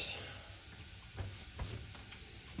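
Potatoes for home fries sizzle in a pan in a small home kitchen while a utensil stirs them, a steady frying hiss with a few scraping thumps from the stirring.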